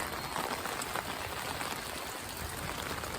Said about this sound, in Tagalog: May naririnig nyo ba ipatak ng ulan?